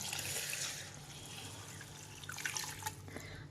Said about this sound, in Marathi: आता आपण ह्याच्यात टाकूया पाणी